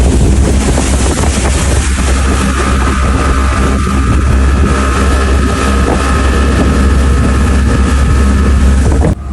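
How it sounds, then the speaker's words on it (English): Loud, constant roar of a motorboat engine with heavy wind buffeting and rushing water, running without a break throughout, on the Dez River in an Iranian canyon. "We took 4 boats with all our friends, riding for almost an hour along the stunning Dez River"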